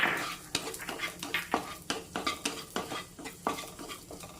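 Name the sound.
cashews and raisins roasting in a pan, stirred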